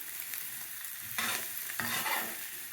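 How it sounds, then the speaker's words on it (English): Potatoes and onions for corned beef hash fry in a pan with a steady close sizzle, broken by two scraping stirs of a utensil. "Okay, I think my potatoes and my onions, as it said, they're starting to brown."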